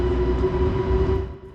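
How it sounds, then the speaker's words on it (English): Ouigo TGV Euroduplex high-speed train pulling away from a station, a loud steady rumble with a sustained electric whine that holds for over a second before starting to fade. "Off our impressive Ouigo TGV Euroduplex goes to continue its journey to Barcelona."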